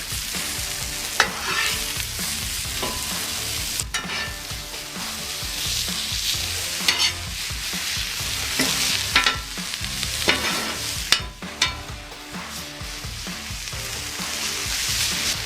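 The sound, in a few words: mushrooms and onions frying, being stirred in a pan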